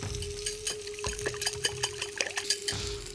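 Eggs beaten with sake and soy sauce in a bowl for Japanese ramen, a quick rhythm of light whisk or chopstick clicks against the bowl, close and fairly soft, with no talking.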